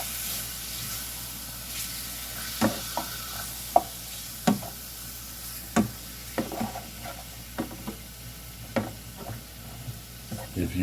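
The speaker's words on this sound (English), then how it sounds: "We're going to saute this till it's totally done" Food sautés in a pan with salt-free garlic seasoning, a soft continuous sizzle broken by scattered clicks and taps of a utensil stirring.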